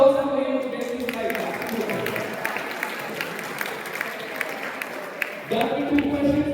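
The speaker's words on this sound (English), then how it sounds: "A round of applause for him to get this right." Audience applause at a school interclass quiz competition, a dense round of clapping from a hall crowd that holds steady for several seconds, dips briefly, then swells again near the end, with a voice speaking over the start.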